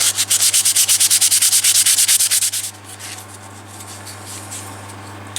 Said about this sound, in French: Un petit coup de ponçage.